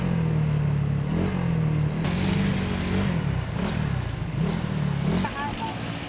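A powerful motorcycle engine running close by, a loud continuous low drone with wavering pitch as the throttle shifts, while someone talks over it.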